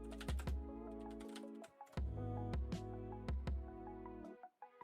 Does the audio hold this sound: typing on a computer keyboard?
yes